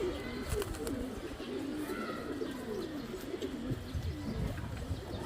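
Racing pigeons in a loft coo steadily in low, rolling phrases that blend into a soft, continuous murmur of several birds, fairly faint and close, with no speech.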